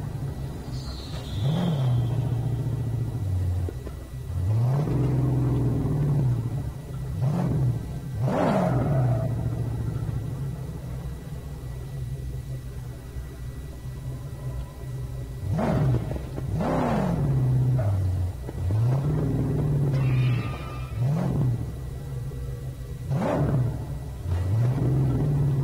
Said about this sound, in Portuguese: Olha, eu tenho que andar com o carro com estas bombas todas aqui.